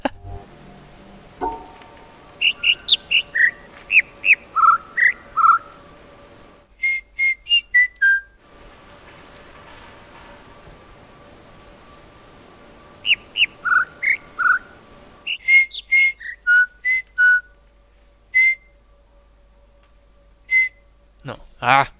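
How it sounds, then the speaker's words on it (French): Birdsong in the puzzle game The Witness, bursts of bright whistled chirps in short repeating phrases at varied pitches, clear and fairly close, separated by quiet gaps, with faint ambient hum and some talk. "Il y a trois oiseaux qui chantent en même temps"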